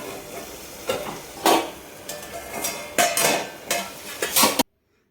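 Onions with salt being stirred in a pan for a Telugu bitter gourd curry: a run of clattering utensil scrapes and knocks against the metal pan, loud and close, in uneven bursts with no talk.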